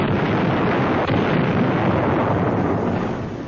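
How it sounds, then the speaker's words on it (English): Bangalore torpedoes and grenades blowing up enemy positions in a 1944 wartime newsreel, a dense, loud continuous roar of blasts with no pauses, carrying a muffled, band-limited old-recording quality. "blowing them apart with bangalores and grenades"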